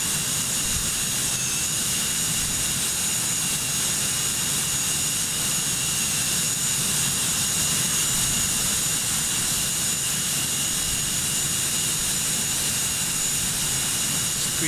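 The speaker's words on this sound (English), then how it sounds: "Screechy loud engines" Steady, loud roar and high whine of MD-82 jet engines in the Prepar3D flight simulator during a Swissair flight, a screechy continuous drone with no breaks and no talking.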